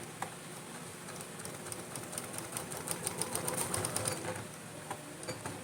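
A sewing machine stitching fabric for a namaz chadar, a quiet run of quick rhythmic mechanical ticks that builds in the middle and then eases off, close and faint, with no one speaking.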